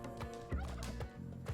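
A turkey in the Spelunky 2 video game gobbles in quick, bubbling bursts, several short warbling calls in a row, clear and close with no talking over them.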